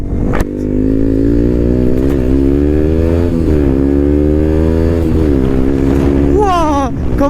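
A KTM Duke motorcycle engine drones steadily and loudly while riding, its pitch shifting slightly, then rising as it revs near the end.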